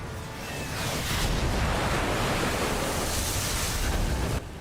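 Car plunging into water in Telltale's Batman video game, a loud sustained rushing, churning splash of water that swells and holds steadily before cutting off abruptly.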